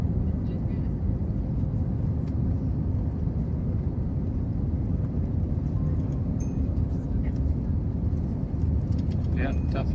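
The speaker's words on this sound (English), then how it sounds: "This is going to be a pretty bumpy landing, guys." Steady, loud broadband roar of an airliner cabin during a bumpy landing on a diverted LAX to JFK flight, constant engine and airflow rumble throughout with faint passenger chatter underneath.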